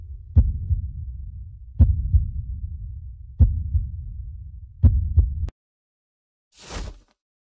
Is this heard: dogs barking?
no